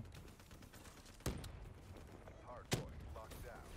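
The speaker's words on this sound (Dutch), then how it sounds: "Oh, zware explosieven hier de hele tijd." Explosions and gunfire in the Call of Duty Black Ops 3 video game during a hardpoint match on Nuketown, with two sharp blasts standing out over a quieter bed of distant game noise.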